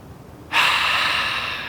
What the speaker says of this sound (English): notice that I'm breathing in through my nose, exhaling through my mouth